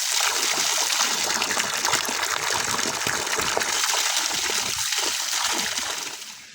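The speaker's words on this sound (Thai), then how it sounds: "ค่อยล้างผัก" Running water splashes and gushes steadily while vegetables are washed, a loud, close spattering stream that continues without pause and tapers off at the end.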